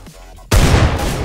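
A wallbang headshot gunshot in a first-person shooter video game, one sharp loud blast that cuts in suddenly after a quiet stretch and rings out in a dense, sustained burst.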